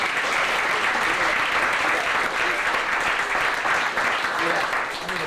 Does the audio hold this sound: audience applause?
yes